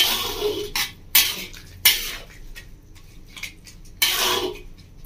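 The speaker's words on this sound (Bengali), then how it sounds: "চিংড়ি মাছটা একটু নাড়াচাড়া করে নেবো" Prawns are stirred in a cooking pan with a metal utensil, giving several sharp scraping clinks in bursts against the pan, with quieter gaps between the strokes.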